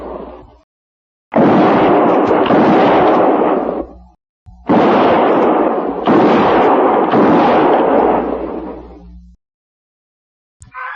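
Volleys of rifle fire in a frontier radio drama, men shooting a few rounds each between the trees: two long bursts of loud, dense, overlapping shots with a short pause between them, then a sudden silence.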